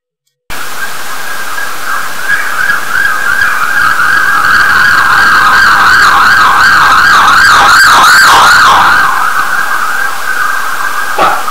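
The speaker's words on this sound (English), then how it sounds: "just a motorbike and a siren" A loud police siren wails continuously, its tone sweeping up and down rapidly, over the steady drone of a motorbike engine nearby.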